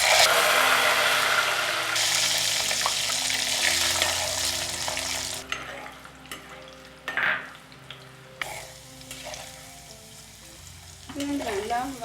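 Garlic sizzling in hot oil with fenugreek, dried red chillies and curry leaves as the tempering for a sundakkai vathal kulambu, a loud steady fry that fades into quieter sizzling with occasional stirring scrapes.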